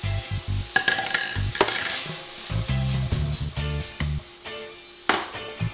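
Strips of steak and vegetables in stir-fry sauce sizzle in a hot pan while being tossed and stirred, with repeated scraping, clattering utensil strokes and bursts of frying close up.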